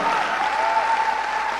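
An indoor audience at a speech event in Bihar breaks into sustained applause, a dense, even wash of clapping hands filling the short stretch, with no talking.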